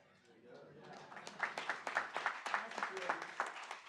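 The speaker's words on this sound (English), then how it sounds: "she's the one that deserves a big round of applause" Applause for a retiring city employee at a council work session, a room of people clapping steadily at moderate distance, building after a brief moment and continuing as a dense, even patter.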